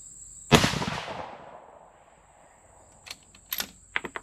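A single loud 6 Dasha rifle shot fired without a muzzle brake, a sharp crack with a rolling decay, followed a few seconds later by quieter clicks and rattles of the bolt being worked.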